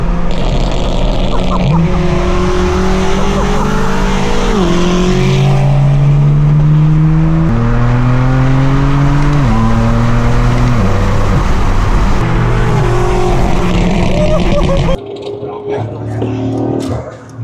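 A straight-piped BMW M4 F82 roars loudly and close, its engine note climbing and dropping through repeated revs and gear changes, then cutting to a quieter idle near the end.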